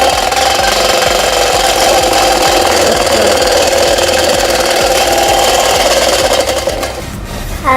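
A small homemade toy washing machine spins with a steady, rasping motor whir that runs continuously before cutting out near the end.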